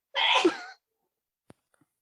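A single sharp sneeze, close and loud, followed by near silence with a couple of tiny clicks.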